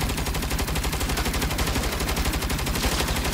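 Rapid automatic gunfire in the Saints Row video game, a dense, continuous stream of loud shots with steady rhythm throughout, no pauses, no talk.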